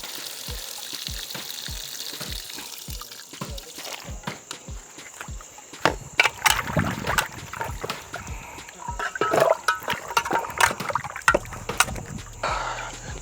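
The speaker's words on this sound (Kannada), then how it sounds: "ನೀಟಾಗಿ 2-3 ಸಲ ವಾಶ್ ಮಾಡಿ ಮತ್ತೆ ಅರ್ಶಿನದಲ್ಲಿ ವಾಶ್ ಮಾಡಿ ಆಯಿತು" Mutton raan is being washed with water and turmeric in a village setting. Steady splashing, swishing and sloshing run throughout, with a regular series of soft thuds early on and louder, irregular splashes later.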